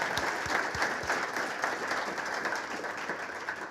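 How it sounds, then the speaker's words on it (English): A room of guests at a partners celebration applauds the event staff, a steady, fairly soft wash of many hands clapping with a few distinct near claps, sustained throughout. "I actually would like folks just a round of applause for the staff that make today happen"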